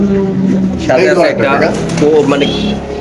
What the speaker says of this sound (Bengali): দামাসিন কবুতর খুব সুন্দর একটা প্যাকেজ দিচ্ছি আমরা